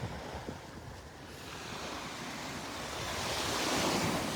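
Ocean surf rolls onto the shore at Delnor-Wiggins Pass State Park beach, a steady wash of waves swelling louder toward the end, with some wind buffeting the microphone and no talk.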